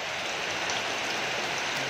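Steady rain hisses down across a bus garage with the depot's coaches parked nearby, a dense, even wash of patter close by and alone, with no voices over it.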